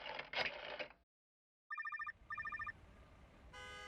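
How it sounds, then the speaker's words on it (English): A phone call placed in a noir radio play: after dialing, a telephone rings twice in trilled electronic bursts, fairly close, followed by a faint line hiss and a short tone at the end. "So, I dialed Shifty."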